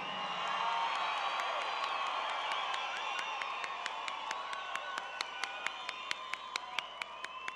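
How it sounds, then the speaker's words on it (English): A crowd at a powwow applauds and cheers under a sustained tone, with sharp claps punctuating the noise in a steady rhythm toward the end. "we're going to go with a crowd of applause"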